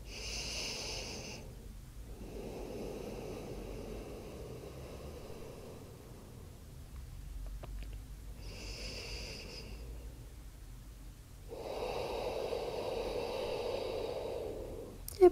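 Deep, slow breathing during a gentle bedtime yoga practice, with a few long whooshing inhales and exhales heard close up and no talking.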